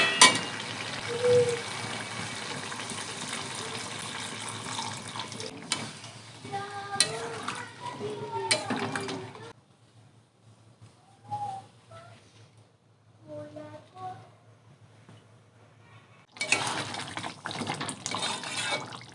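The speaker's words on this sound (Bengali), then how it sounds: "কষানো হয়ে গেছে, এবার জল দিয়ে দেবো" Water pours into a pan of frying chicken scraps with Malabar spinach stems, a loud broad sizzle and rush for the first several seconds, then quieter stirring and pan clinks before the hiss returns near the end.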